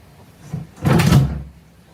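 A homemade wooden drawer slides in its frame, giving one short rubbing stroke followed by a longer, louder wooden scrape and thud, close by, with nothing else around it.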